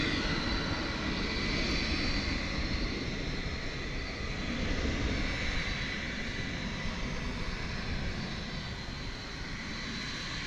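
A Boeing 737-800 jet airliner bound for San Antonio, at night at Dallas Fort Worth airport, gives a steady broadband engine roar that holds at an even, moderate level throughout, with no voices.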